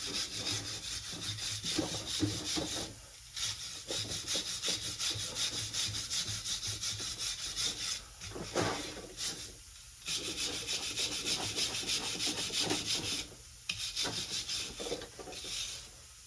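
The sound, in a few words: cleaning a Jeep Wrangler clutch shaft by rubbing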